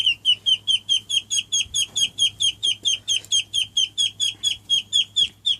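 Penned ducks give a rapid, steady series of high, piercing peeps, about four calls a second, close and clear over a faint low hum.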